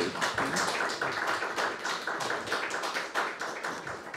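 Applause from a small audience in a modest room at a Polish book discussion, a steady dense patter of hand claps sustained throughout, fairly close and moderately loud with no talk over it.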